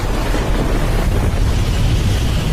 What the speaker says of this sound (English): They watched the dark patch of raging storm fling up great white-topped waves, which swept in and lashed the quayside.